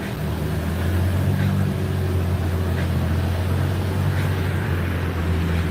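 A car engine runs steadily on an outdoor dynamometer, a loud, continuous low drone with a deep rumble and no pauses, accompanied by an outdoor wind-like hiss.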